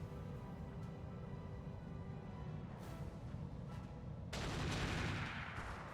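Turrets firing at an Archer mech in the RogueTech video game, a dense low rumble of continuous distant gunfire with a sharper, louder burst near the end.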